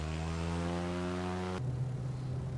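Small propeller airplane engine at full throttle during a short-field takeoff, a loud, steady droning roar that holds constant, then shifts to a lower, rougher tone partway through; no talking.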